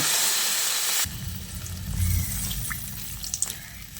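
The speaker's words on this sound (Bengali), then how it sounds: "এবার আমি এর মধ্যে পরিমাণ মতো জল দিয়ে দিচ্ছি।" Water is poured into a pan of okra and potato cooking in spices, starting as a bright splashing rush, then giving way to a lower bubbling simmer with faint drips and hisses, close by and with no voices.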